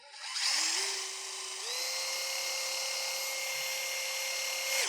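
A DeWalt cordless drill spins a bit against wood, whining loud and close at a steady pitch that steps up once partway through, then cuts off at the end.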